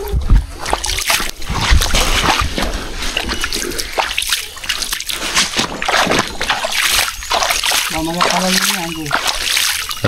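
Water splashes and sloshes steadily as a banakon snake is lowered into it to cool off on a hot day, a continuous busy wash of liquid noise with people talking throughout.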